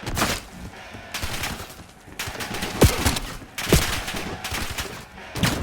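Rapid gunfire from Call of Duty: Black Ops 7 co-op campaign, sustained bursts of automatic shots in loud clusters separated by brief lulls, dense and close.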